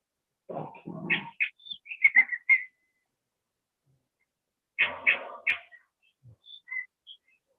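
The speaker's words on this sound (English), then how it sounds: "Nice bird sounds there." Birds singing outdoors, clear whistled chirps and warbling phrases in two short bursts separated by a quiet gap, fairly close and alone with no talk.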